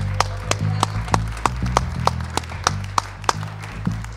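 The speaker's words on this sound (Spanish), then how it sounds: "Fuertes aplausos para Carlos Maslatón." A studio audience claps to welcome a guest on a talk show, sparse distinct hand claps at a brisk uneven rhythm, fairly close and moderately loud, with no voices over them.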